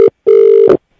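A telephone line tone right after a call is hung up, heard as two steady beeps, a short one and then a longer one, loud and close with no talk.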